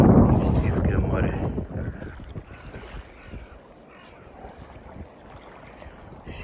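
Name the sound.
wind blowing at a river mouth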